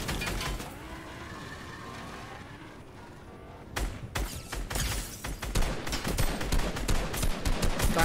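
Rapid video game gunfire erupts in dense bursts of sharp cracks after a quieter opening, loud and close, with automatic fire and repeated shots continuing to the end.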